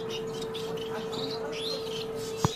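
Small cage birds such as finches and Java sparrows chirp faintly now and then over a steady electrical hum. A sharp knock comes near the end.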